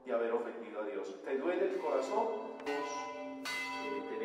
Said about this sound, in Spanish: Suenan las campanas de la iglesia del claustro